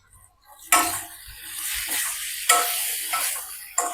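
Onions and tomatoes fry in a pan, with three bursts of sizzling as the mixture is stirred and tossed, each starting sharply and fading, and faint clinks of a spoon between them.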